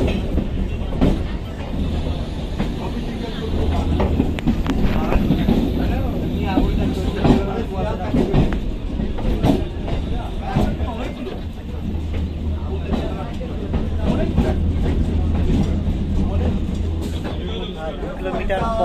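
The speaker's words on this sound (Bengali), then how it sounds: "নৈহাটি থেকে সবে ট্রেনটা ছাড়লো।" A Naihati–Bandel local train pulling out and running, with loud close rumble and clickety-clack of wheels on the rails throughout, while a person talks over it.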